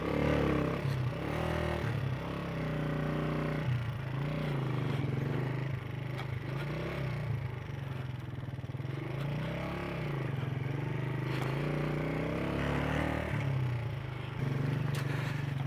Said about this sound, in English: Come on, my little bike. You're not built for this, I know.